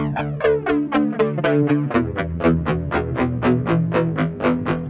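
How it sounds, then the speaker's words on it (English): Electric guitar played through a delay effect in a DIY amp setup, a steady run of plucked, distorted notes with repeating echoes trailing each one, loud and close with no talking. "we can change how the tone goes by changing the delay"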